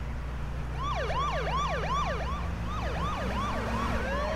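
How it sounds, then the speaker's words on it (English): Wailing emergency vehicle sirens in a video game, a repeating rising-and-falling sweep that stays loud and steady throughout, with a second overlapping siren joining in partway. "Turn on the sirens."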